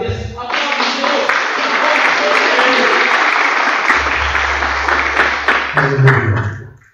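A church congregation applauds at a family worship service, a loud, sustained burst of clapping that fills the room and fades at the end, with voices calling out over it and a low organ or keyboard tone entering midway.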